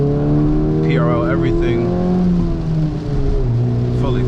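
A turbocharged 10th/11th gen Honda with an RE6 turbo, Type R clutch, short throw shifter and full exhaust accelerates up close, the engine note sweeping upward through revs while someone talks over it.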